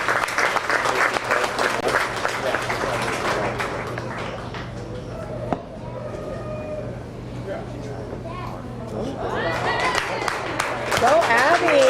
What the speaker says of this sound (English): let's give all these exhibitors a round of applause